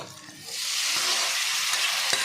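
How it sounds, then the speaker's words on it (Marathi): Finely chopped spinach sautés in a pan for a village-style spinach sabji, starting quiet and rising into a steady, bright sizzle with a couple of faint stirring taps. "छान आपली आता ही 2 मिनिट पालक परतवून घेतलेली आहे आपण"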